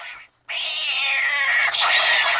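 A cat meowing, a drawn-out, loud and close call after a brief gap, sustained and strained like a caterwaul, with no talk over it.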